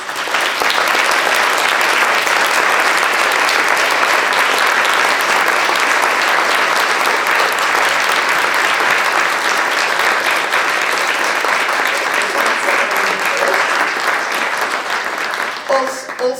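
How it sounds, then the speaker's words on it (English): Sustained, loud audience applause for the two guests at the transmediale McLuhan Lecture 2024 with Cory Doctorow and Frederike Kaltheuner, a dense, even clapping that fills the room for about sixteen seconds before tapering slightly at the end. "I'd like to give both guests a massive round of applause"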